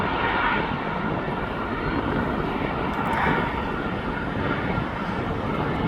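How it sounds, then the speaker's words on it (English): A jet airliner's engines roar at East Midlands Airport, a dense, loud, steady broadband rumble that holds unbroken from start to finish with no voices over it. "I think this plane is going to do a turn and burn."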